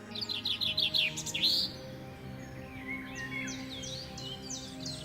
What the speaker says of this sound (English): You hear the sound of birds singing,